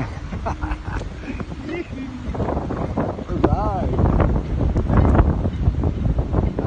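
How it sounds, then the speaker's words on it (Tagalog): Gusty wind from an approaching typhoon buffets the microphone throughout while a person talks over it, the roar growing stronger toward the end. "Ang hangin."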